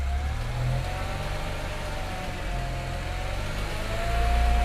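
BMW N54 335i engine fitted with a Chinese 17T hybrid turbo, on its first start, a steady close engine drone with a faint whine that rises slightly in pitch as revs climb near the end.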